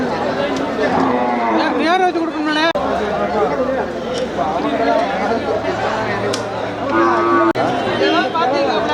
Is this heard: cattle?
yes